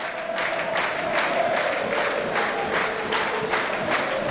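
Home crowd at a Dulwich Hamlet v Hendon Isthmian Premier Division play-off final football match, clapping in a steady rhythmic beat roughly twice a second over a broad crowd roar, sounding full and fairly near.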